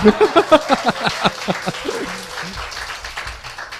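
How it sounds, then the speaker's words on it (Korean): Studio audience applause at a Korean talk show recording, a moderate spatter of clapping mixed with laughter and voices, fading into a softer wash of claps. "잡초 전문가를 찾아라고 한 저에게는 더 큰 박수를 부탁드리고요."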